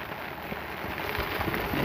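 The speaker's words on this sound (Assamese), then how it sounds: "বৰ্তমান এতিয়াও বৰষুণ দি আছে" Rain falling steadily outdoors in rural Assam near rice fields, a soft, even hiss that grows slightly louder toward the end, with no talking.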